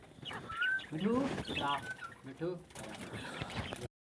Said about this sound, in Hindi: ये विकास भाई डव है